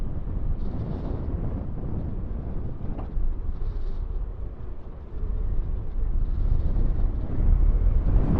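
Strong wind buffets the microphone during an electric mountain bike ride through town and countryside, a loud, rumbling low roar that rises and falls in gusts, with no talk.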